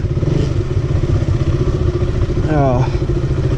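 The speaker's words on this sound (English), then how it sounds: "It sounds like a Splendor more than a KTM." A cleaned-up KTM motorcycle engine idles steadily at close range on a ride toward Khardung La, its low rumble unbroken and joined by a brief whine near the end.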